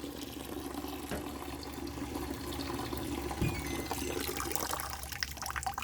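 Water drains through the hose of a Liberty 13 liter hypochlorous acid generator, a soft continuous trickle and gurgle with a low steady hum beneath, fairly faint and near.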